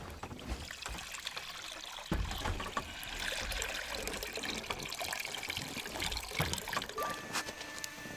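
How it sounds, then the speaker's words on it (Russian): Water poured into a cauldron for cooking smoked ribs at a forest cabin, a steady trickling, splashing stream that grows louder partway through and continues close by without any talk. "Теперь смело сюда же добавляем воду и будем варить копченые ребра."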